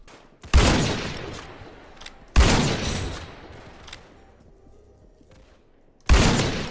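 Three loud gunshots in a Roblox game, each a sharp blast followed by a decaying tail, spaced a couple of seconds apart with quieter rumble between.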